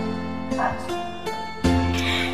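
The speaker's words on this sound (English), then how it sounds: "Oh, my dog is barking." A dog barks a few times nearby, short sharp yaps standing out over a steady background hum.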